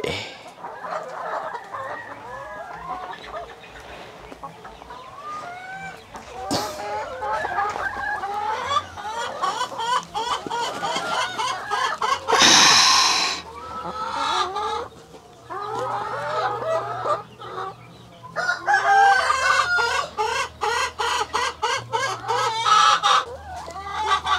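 Several backyard chickens cluck and chatter nearby for a long stretch while eating coconut pulp, with a brief burst of louder noise partway through and no one talking.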